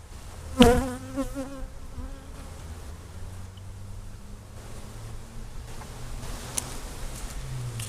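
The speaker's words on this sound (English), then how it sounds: "Bees are a little agitated." Dense buzzing of agitated honey bees during a hive inspection, close and steady throughout, with a sharp louder burst near the start.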